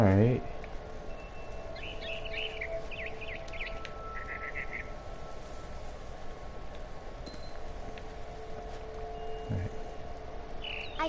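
A frightened barn swallow in a video game gives scattered bursts of chirps, faint against a constant low ambient drone, with a few brief clicks and rustles.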